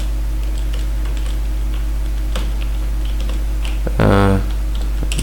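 Computer keyboard keys tap sparsely and unevenly while someone writes HTML code, the clicks sitting over a steady electrical hum, with a brief tonal chime near the end.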